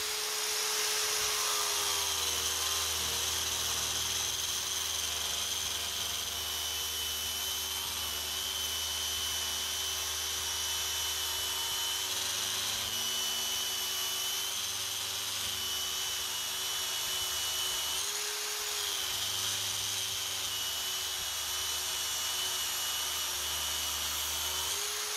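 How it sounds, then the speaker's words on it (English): TA10 unitised abrasive disc grinding down a stainless steel TIG fillet weld, a steady high-pitched whine running continuously and loud throughout, with no talk over it. "we've used the TA10 to take out the weld"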